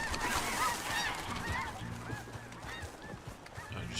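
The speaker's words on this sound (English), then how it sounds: "I just scared all the ducks out of the water by yelling that." Startled ducks burst up off the water outdoors, a dense cluster of overlapping honking and quacking calls that carries on loudly and close.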